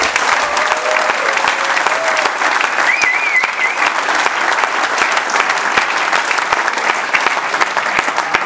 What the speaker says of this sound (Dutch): En ik wil een mega applaus voor Gert en Cor.